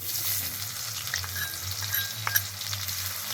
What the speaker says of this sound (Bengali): ফোড়নটা একটু ভেজে নিলাম, তারপর দিয়ে দিচ্ছি কুচানো পেঁয়াজ।